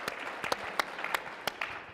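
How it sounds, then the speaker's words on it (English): Audience applause at a mayors' panel on city resilience, a steady wash of many hands clapping with sharp individual claps standing out, fairly close and continuous for the whole stretch. "That deserves an applause."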